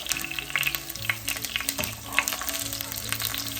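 Steady frying sizzle of tofu in a pan, with crackling pops and faint scraping, close and continuous throughout, no voices.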